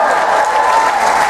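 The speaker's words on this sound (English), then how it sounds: "Give them a big round of applause." Brief burst of steady crowd applause aboard a cruise ship show for a married couple celebrating fifty years, close and continuous with no break.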